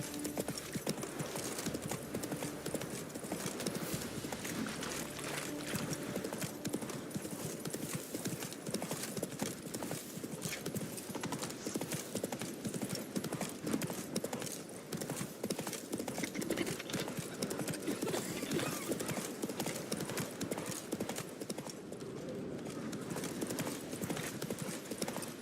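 Galloping horse hooves pound in a fast, continuous rhythm in The Witcher 3, close and steady for the whole stretch, with faint game ambience beneath.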